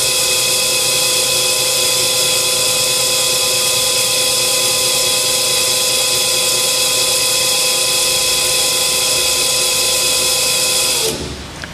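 A Pandjiris 4500 lb welding positioner with a pipe welding chuck tilts toward the flat position, its motor giving a loud, steady whine that stops abruptly near the end.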